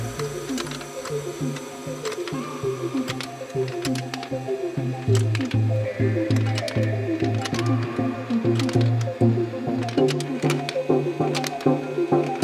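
A LEGO pinball machine's motor spins a small 8-tooth gear against a large 40-tooth gear, giving a steady mechanical whir with rapid clicking, rattling plastic gear chatter that continues close and moderately loud throughout.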